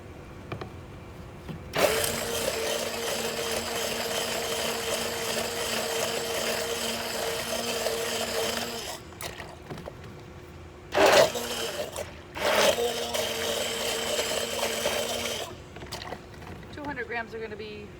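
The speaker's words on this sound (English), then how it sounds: "a little bit easier to blend than just 100 because the drill blade doesn't really go all the way down in 100 grams very well" Electric drill with a mixing blade blending ceramic glaze and water in a bucket, a steady loud whirring drone that runs for several seconds, stops, then resumes in shorter bursts, with a voice talking over it.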